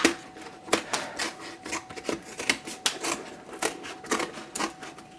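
Excess material being cut away from a shadow box frame, a rapid series of close, sharp cutting strokes in an uneven rhythm.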